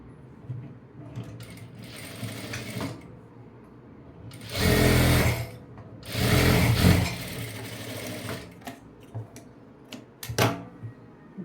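A sewing machine stitches down a folded fabric edge, with two loud sustained bursts of running needle chatter separated by a short pause, then quieter clicks and handling noises.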